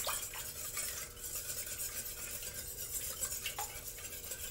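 A whisk beats three eggs with milk and liquid cream in a bowl, a faint, steady scraping and swishing with occasional soft taps against the side, alone without talk.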